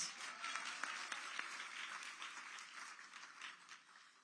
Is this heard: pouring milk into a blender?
no